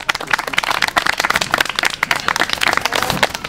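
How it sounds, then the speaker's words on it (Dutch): An audience of young people at a theatre camp claps warmly, a dense, steady patter of many hands close by that carries on through the whole stretch with no voices over it. "warm applaus"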